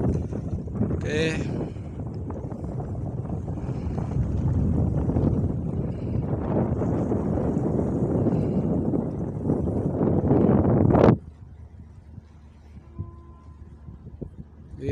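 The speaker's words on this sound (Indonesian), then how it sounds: "Terlihat angin juga terasa sangat kuat." Strong wind buffets the microphone at sea in the Sunda Strait between Merak and Bakauheni ports after an earthquake, a loud steady roar with boat noise for about eleven seconds before dropping to a quiet hum.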